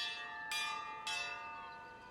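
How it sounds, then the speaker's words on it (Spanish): Bell ringing in the video game Pillars of Eternity 2, two loud metallic strikes about half a second apart, each leaving a long resonant ring that slowly fades. "Who's rung the bell and why?"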